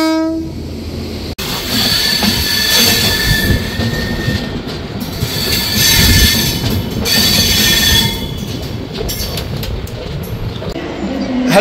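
The Mithila Express pulls out toward Raxaul: loud, close carriages rumble and rattle with repeated high metallic wheel squeals, and a horn sounds amid steady clatter that swells and eases over several seconds.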